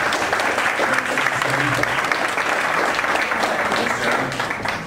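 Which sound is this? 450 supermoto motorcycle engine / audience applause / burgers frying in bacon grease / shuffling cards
audience applause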